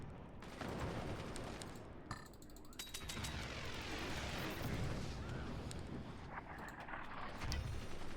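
Mortar fire in the Forts video game, a dense rattle of repeated launches and impacts layered with mechanical clatter, moderately loud and continuous, with brief gaps and a low boom near the end.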